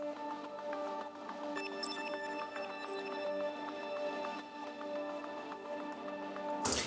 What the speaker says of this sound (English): This is really like the kind of glitchy element of the song